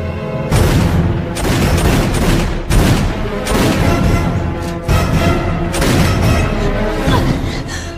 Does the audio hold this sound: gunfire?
yes